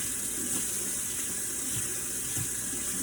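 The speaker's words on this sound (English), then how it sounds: "you're gonna wanna use your elbow to turn on the sink, and you're just gonna wanna rinse your hands off for 5 to 10 seconds" A sink faucet runs steadily as hands are rinsed under the stream, giving a close, even hiss of water with small splashing variations and no talking.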